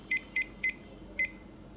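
A kitchen timer for instant noodles beeps as it is set, giving four short, bright electronic chirps, three in quick succession and a fourth after a brief pause, close and clear.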